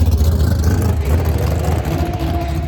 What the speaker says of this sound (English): Still some loud cars.